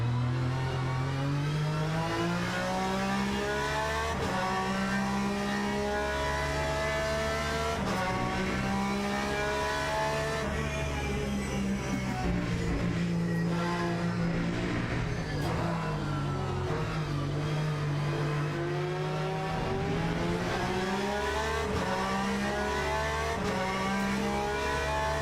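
Race car engine in Le Mans Ultimate, revving loud and steady through repeated upshifts and downshifts, a continuous harmonic whine rising and falling over a lap.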